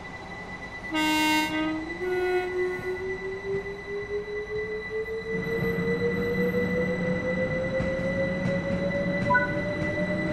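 A train in Train Sim World 3 on the East Coastway line sounds a brief horn, then its traction motor whine rises steadily in pitch as it pulls away, over constant rolling rumble.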